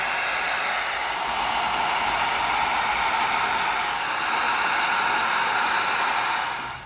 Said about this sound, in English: We're gonna come in with our heat gun,